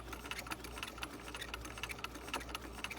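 A sewing machine stitches piping onto a bishop sleeve with a short stitch length, running slowly in a steady, close mechanical whir of rapid needle ticks, alone.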